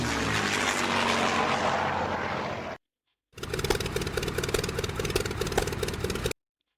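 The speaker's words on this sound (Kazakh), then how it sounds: "Бір моторлы ұшақ." A single-engine propeller airplane flies past with a loud, steady droning roar, heard in two unbroken stretches separated by a short silence.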